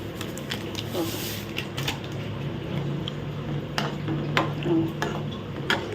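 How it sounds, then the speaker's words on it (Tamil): Roasted semolina is stirred in a pan with a spoon, giving soft gritty scraping and a few sharp clinks of metal against the pan over a low steady background. "ஒத்த கையால் என்னால் கிளற முடியல அதனால் நான் இப்போது கிளறேன்"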